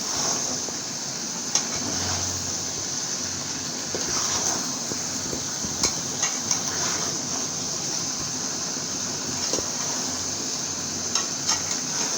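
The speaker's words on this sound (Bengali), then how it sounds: "লাউটা দিয়ে আমি ভালোভাবে কষাই নেব" Bottle gourd stir-fried with beef in a pan gives a steady sizzling hiss, with soft scraping and clicking from stirring scattered through it.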